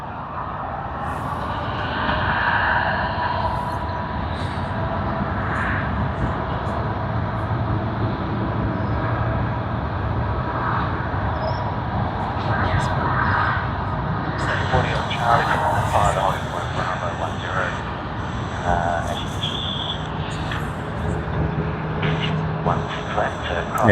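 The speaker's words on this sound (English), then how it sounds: "So we will see both of them nicely taxiing, and then we will see them departing." Airliners taxi slowly at Sydney Airport, a steady distant jet-engine drone and whine holding over the whole stretch, with a commentator talking over it and brief higher tonal whines rising midway.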